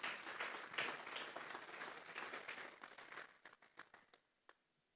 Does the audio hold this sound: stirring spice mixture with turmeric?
no